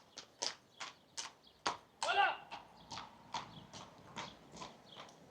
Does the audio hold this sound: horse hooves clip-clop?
yes